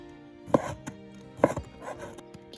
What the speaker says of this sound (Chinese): 现在来把嘎嘎切一下